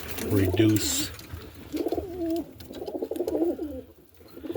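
An old roller pigeon coos in a loft after dark, giving a few rolling, throaty coos in repeated bursts at close range, with soft background rustle.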